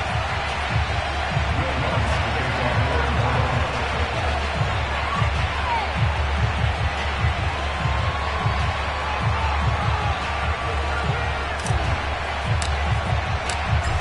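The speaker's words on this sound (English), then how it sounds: "Somehow this place got even louder a short time ago as the Falcons were introduced to this sellout crowd" A sellout stadium crowd in the Madden NFL video game roars steadily as a constant loud wash, with a commentator's voice talking over it throughout.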